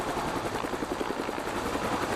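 A Cobra attack helicopter flies over mountainous terrain during a military exercise, its rotor producing a steady, fast thudding chop with a loud engine roar throughout, and no voices.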